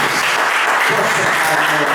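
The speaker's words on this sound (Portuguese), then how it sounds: "Vamos aplaudir a palavra do Senhor." Congregation at a church service applauding, a dense steady wash of many hands clapping that runs through the whole short moment at a close, even level.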